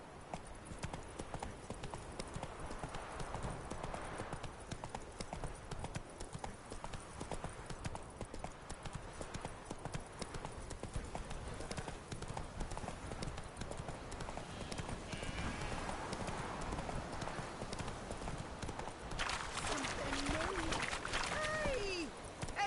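Hooves of Roach, the horse in The Witcher 3, trot in a steady clip-clop over a noisy game soundscape, fairly faint and continuous, with voices over parts of it.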